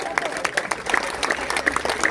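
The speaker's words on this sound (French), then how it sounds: "applaudissements" Audience at an LFI political meeting in Saintes clapping, a short stretch of rhythmic, fairly close handclaps with some crowd noise and speech mixed in.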